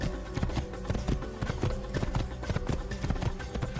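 Horse hooves pound in a fast, steady galloping rhythm in the original Assassin's Creed game on Xbox Series X, close and continuous with light background ambience.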